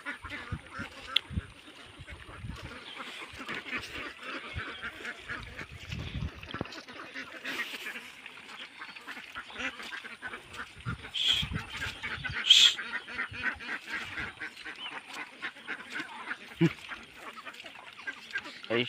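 A flock of farm ducks out in an open field give continuous overlapping quacks, some close and some farther off, with someone talking intermittently over them.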